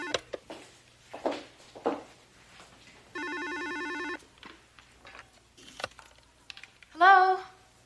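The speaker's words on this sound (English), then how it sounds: "Look, the phone just started ringing." A telephone rings in a quiet room, a single electronic ring lasting about a second, set among soft rustles and light clicks, followed by a brief higher chirp near the end.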